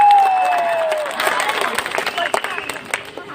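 An audience at an Odia comedy show breaks into applause, dense clapping swelling after a brief opening tone and continuing with crowd noise.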